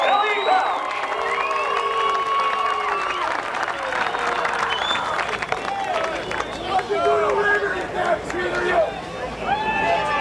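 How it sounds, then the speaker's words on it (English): Crowd applauding and cheering the race winner at a sprint car event in Bechtelsville, Pennsylvania, with clapping and shouts rising and falling over an outdoor grandstand ambience mixed with voices. "have a round of applause for your winner, Ellie Bell."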